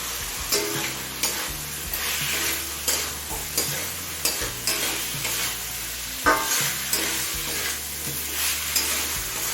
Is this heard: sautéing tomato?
yes